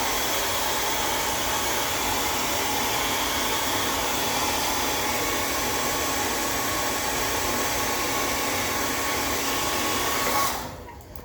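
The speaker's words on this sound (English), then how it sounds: "let me blow dry back through there" A hair dryer blows steadily and close on a beard, a constant loud airy roar that cuts off near the end, with no talking.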